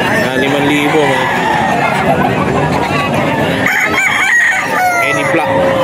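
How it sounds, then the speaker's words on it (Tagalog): A black Hennie-breed rooster on a poultry farm crows repeatedly amid other fowl clucking and people talking nearby, the calls loud and close over a busy, noisy background. "Ito yung manok niya na hini."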